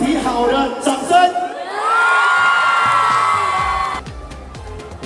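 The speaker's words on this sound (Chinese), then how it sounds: "掌声。" Spectators at a festive New Year game break into loud cheers and whoops, a rising roar of many voices that holds for a few seconds before dropping back to scattered calls and chatter.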